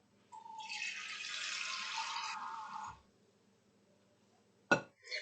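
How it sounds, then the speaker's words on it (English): Water runs steadily from a kitchen tap into a measuring cup for a Sloppy Joe bake, a smooth hiss lasting a few seconds, then stops before two short clinks of utensils. "we're going to add 1/3 cup of water"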